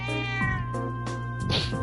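A cat meows repeatedly in the video game The Legend of Heroes: Trails of Cold Steel, several clear, close, drawn-out calls over soft background game music, with no talking.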